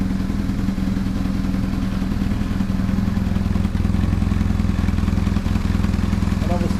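Self-built adventure motorcycle engine idling with an unclamped exhaust, steady low rhythmic thrum with puffs of blowing and faint loose rattles, close and continuous, a voice briefly talking over it.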